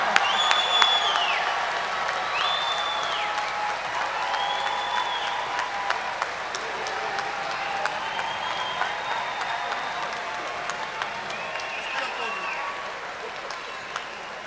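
Graduates applaud at a university spring commencement, a large crowd clapping continuously with scattered cheers and whistles, broad and sustained throughout with voices mixed into the din.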